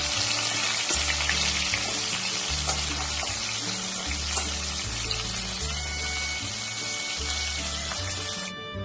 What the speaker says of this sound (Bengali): কড়াইতে তেল দিয়ে দিয়েছি প্রথমে আমি কাঁকড়াগুলোকে ভেজে নেবো